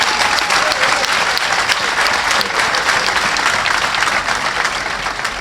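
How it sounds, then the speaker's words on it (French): Crowd at an opposition political rally in Benin applauding warmly, sustained loud clapping from many people without a break. "Et vous devriez tous applaudir chaleureusement à maman Roselyne Tshombe."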